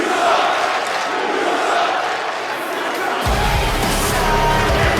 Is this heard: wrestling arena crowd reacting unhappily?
yes